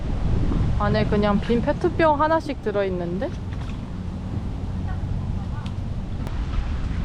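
Gusty wind buffets the microphone on Tonle Sap lake in Cambodia, with water sloshing beneath; a person talks over the roar early on, then the wind and waves continue alone.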